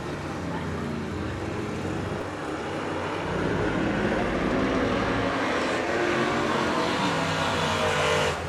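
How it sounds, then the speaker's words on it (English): At a Wanganui superstock grand prix night meeting in New Zealand, superstock race cars roar around the track, a continuous dense engine drone that swells louder partway through. "Beautiful sound these cars are making on a still Wanganui night, which is a bit of a rarity."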